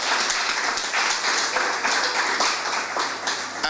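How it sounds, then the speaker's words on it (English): Steady applause from an assembled audience at a regional gathering, many hands clapping in a dense, even wash that holds for several seconds at moderate distance. "Let us give them a special round of applause"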